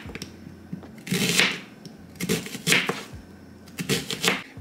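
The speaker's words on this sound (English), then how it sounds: "first thing that we're gonna do is we're gonna cut up the onions" A knife chopping onions on a board sounds in three short bursts of rapid, clattering cuts, close by, with quieter pauses between them and no speech.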